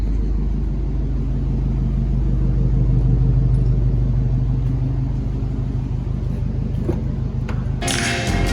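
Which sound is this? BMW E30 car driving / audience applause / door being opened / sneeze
BMW E30 car driving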